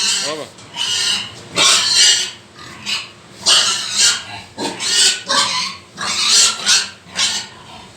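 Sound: pig squealing

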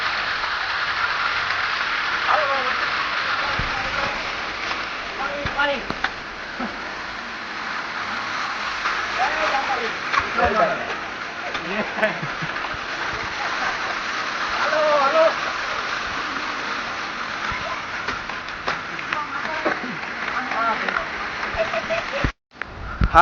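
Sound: heavy rain and flowing water on Girnar hill

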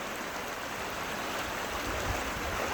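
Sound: water flowing in a mountain stream

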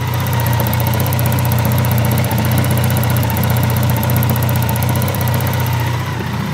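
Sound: Grinnall Scorpion K1100 motorcycle engine idling, clattery

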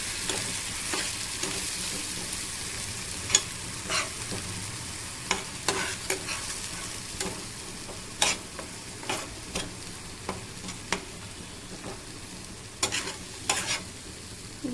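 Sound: spice paste being sautéed in a pan for rui fish kalia

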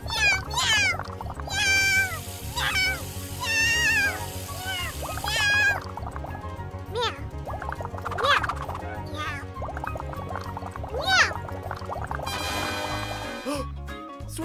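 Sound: child imitating a cat meowing

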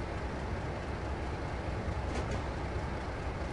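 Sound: train sound in Train Simulator video game, East Coast Mainline

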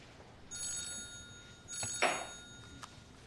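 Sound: telephone ringing

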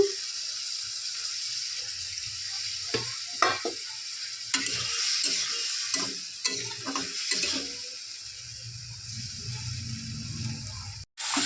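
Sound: chicken stir-frying with spices in a pan

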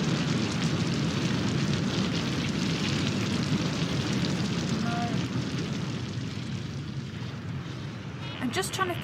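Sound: volcanic lava fire sound effect

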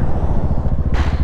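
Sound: Husqvarna 701 motorcycle braking

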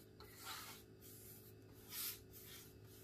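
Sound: spray bottle spraying water

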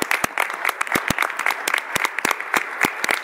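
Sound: round of applause for outgoing board members

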